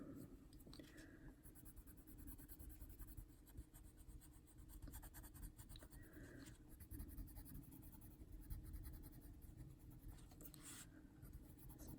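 Prismacolor colored pencil scratching across a paper page, soft and close, with quiet continuous strokes and a few sharper scrapes spread over the span.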